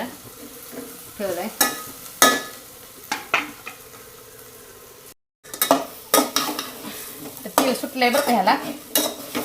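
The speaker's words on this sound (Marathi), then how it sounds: "आपले वांगी चांगली तळून निघल्यात आणि त्याला तेल सुटलंय" Brinjal (eggplant) frying in oil in a pan, with a soft sizzle beneath frequent spoon clinks and stirring scrapes against the pan, one brief dropout midway.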